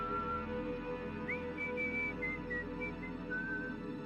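Eerie, thin whistling rising faintly as if from a crawl space under floorboards, drifting through the vents in a few wavering, sustained tones over a steady low hum, with no voices.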